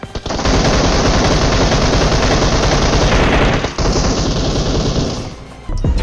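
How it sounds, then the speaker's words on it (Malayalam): Loud, dense automatic gunfire in a chicken-leg-themed shooting game, sustained rapid bursts that fill nearly the whole stretch, with one brief break and a drop-off near the end, and no talk over it. "ദേ ഇവിടെ ഇവിടെ ഇവിടെ ഒന്ന് വെടിവെക്കോ അങ്ങോട്ട്"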